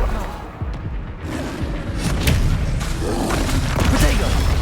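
Expelliarmus disarming spell impacts in the Hogwarts Legacy video game: a dense, loud run of thumps and crashing hits layered over continuous battle noise, with a voice speaking faintly in the mix.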